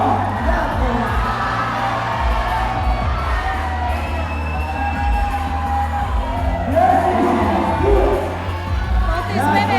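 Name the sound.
crowd cheering at a climbing competition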